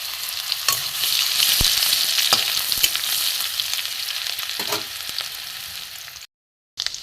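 Chopped garlic and cumin seeds fry in hot oil in a pan, giving a steady close sizzle with a few sharp crackles and stirring scrapes before a short silence at the end.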